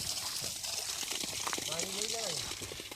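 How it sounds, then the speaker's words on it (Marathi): Water pouring into a village water tank, a steady close gushing wash that carries through the whole stretch, with a person speaking over it. "असं पाणी आलं की आमची टाकी भरते"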